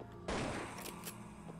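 Gunfire in the video game Anglerfish: a sudden loud burst of shots that rattles on briefly, followed by a couple of sharper cracks as it fades, with no talk.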